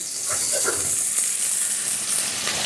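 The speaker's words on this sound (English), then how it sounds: "I will add the onion." Onion frying in a thyme sauce for baked red snapper, a steady loud close sizzle with a dense hiss that holds constant throughout, with a few faint utensil movements and no talking.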